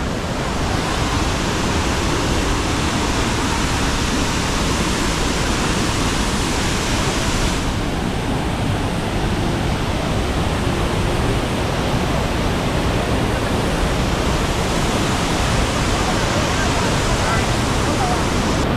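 Heavy, continuous roar of Datanla waterfall in Da Lat, Vietnam, a large volume of water pouring down, loud and close with steady broadband rush throughout and a slight shift in tone midway.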